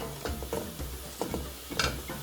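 Corn being stirred into an African dish in a pan, close-up scraping and clinking strokes over a soft sizzle, several irregular stirs in quick succession, with no voices.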